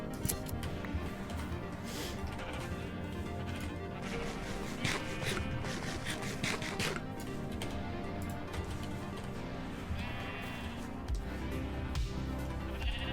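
Pink sheep in Minecraft bleat over a busy, continuous game soundscape with music and ticking effects, the calls mixed in rather than standing alone.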